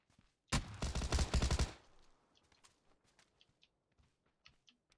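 An M4 rifle in PUBG fires one loud rapid automatic burst lasting about a second, then sparse fainter shots and clatter trail off in the distance.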